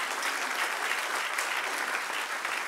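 A church congregation claps steadily and densely throughout, an even wash of applause with no voices over it.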